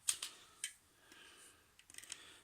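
A few quiet, sharp snips and crinkles, scattered then clustered near the end, like scissors cutting through plastic packaging of a Transformers Siege Leader Class Ultra Magnus toy, close and faint.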